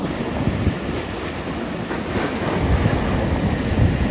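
Sea waves breaking at Masba, a continuous broadband roar of surf mixed with wind buffeting the microphone, steady and fairly loud throughout with no voices.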